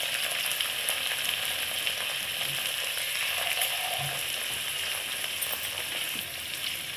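Masala spices frying in a pan, giving a steady, loud broadband sizzle that holds evenly throughout with faint stirring clinks.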